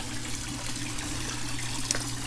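Water drains down a 3/4 inch overflow pipe in a small backyard pond, a steady soft trickling gurgle with a faint splash near the end and no voices.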